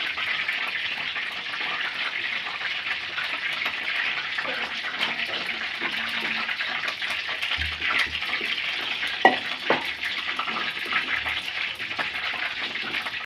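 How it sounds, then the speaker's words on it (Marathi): Gram flour batter with chopped onion and green chilli being mixed by hand in a bowl, a continuous wet squelching and slapping texture close up, steady with a few sharper knocks, no talk. "हे सर्व मिक्स करून घेऊया"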